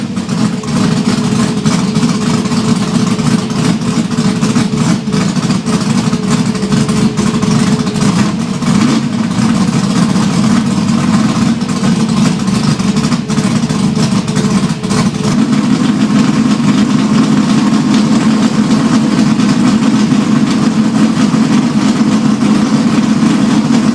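Ford 351 Cleveland V8 running with faulty Isky roller lifters, a loud continuous rough idle with a steady throb that swells slightly in its later half, close and alone with no voices.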